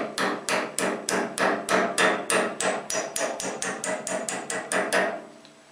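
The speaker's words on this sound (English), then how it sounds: "I can go ahead and reinstall the cotter pin. And to do that, I just tap it down." A hammer taps a cotter pin down on a radial arm saw in a quick, even run of about fifteen sharp, close metallic strikes.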